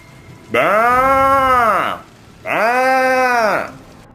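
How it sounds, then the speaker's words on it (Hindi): A cow lows loudly during a rainstorm, two long drawn-out moos in close succession, each rising and falling, near and clear with a short pause between them. "जिससे गाय जोर जोर से रंभाने लगती है"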